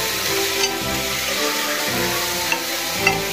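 Chana roasting in a pan, a steady close sizzle with occasional light crackles over a low hum, short and unbroken.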